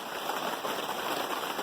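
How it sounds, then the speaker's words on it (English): Steady rain falling on a garden during a thunderstorm, a constant, fairly faint hiss of drops with no pauses and no voices. "I'm figuring the rain's not gonna let up"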